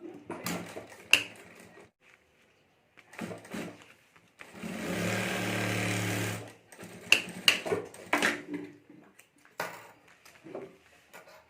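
A single short burst of sewing machine stitching on a potli bag sounds amid scattered handling clatter and quiet pauses.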